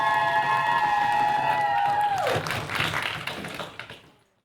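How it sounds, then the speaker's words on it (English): Audience applause for debate finalists at a university grand final, scattered clapping rising as a sustained ringing tone cuts off, then thinning and fading out to quiet. "one more round of applause for our open finalists"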